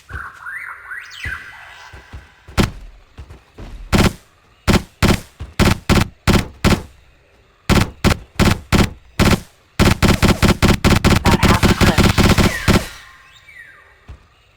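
Gunfire at a raptor in the Trespasser game: loud single shots in an irregular rhythm, then a rapid string of close, sharp rounds fired in quick succession before stopping.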